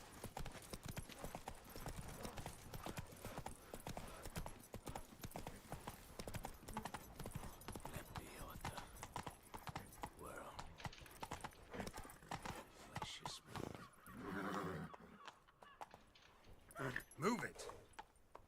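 Hooves of a galloping horse in The Witcher 3 beat a fast, steady clip-clop across most of the stretch, with someone talking over them and brief whinny-like calls near the end.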